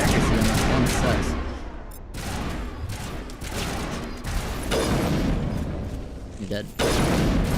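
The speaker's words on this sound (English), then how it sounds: "The sniper rifle's pretty freaking good." Sniper rifle gunfire in the video game Mass Effect Legendary Edition: repeated loud, sharp shots with booming tails burst through the clip while someone talks over the action.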